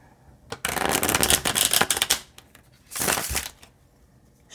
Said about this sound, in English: shuffle and select the cards.